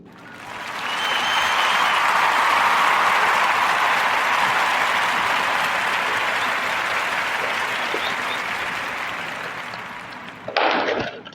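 A podcast audience breaks into a warm round of applause that swells quickly, holds dense and steady for several seconds, then tapers before a brief thump at the end.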